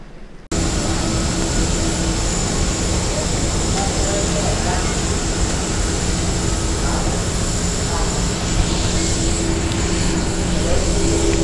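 Steady, loud, broadband cabin roar of an Emirates Airbus A380 in flight holds unchanged throughout, after a brief quieter start. Voices sit faintly under the drone.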